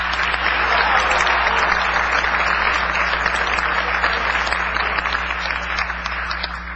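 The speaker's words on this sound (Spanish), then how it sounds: "Quiero que le enviemos desde aquí un aplauso a Fidel" Sustained, loud, dense applause from a large audience at an international gathering of left-wing parties in 2009, steady throughout and easing slightly toward the end, with no speech over it.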